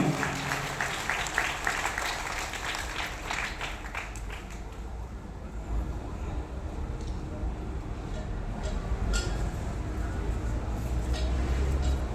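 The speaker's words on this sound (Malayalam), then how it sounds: "വേദിയെ ധന്യമാക്കിയ ശ്രീ കുമാരി ഗംഗാ ശശിധരന് എല്ലാവരും നിറഞ്ഞ മനസ്സോടെ ഒരു കയ്യടിയോടുകൂടി നമുക്ക് ഗംഗാശക്തിയിൽ നിന്ന് ആശംസകൾ നേരാം" An audience claps steadily at an honouring ceremony during a festival in Kerala, a sustained wash of applause that holds throughout at moderate distance.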